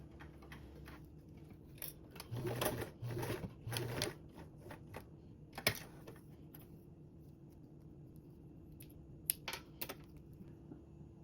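A sewing machine basts a fabric sling strap in quiet, short bursts of rapid stitching, interrupted by pauses and small clicks as the fabric is handled.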